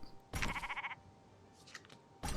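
Sheep bleating in the video game Commander Quest, two short wavering bleats a moment apart with a brief higher call between them, clear and close against a quiet game background.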